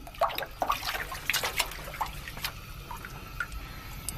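Water trickles through an underground spring tunnel with steady, close dribbling and scattered drips at an uneven pace, echoing lightly and heard on its own with no voices.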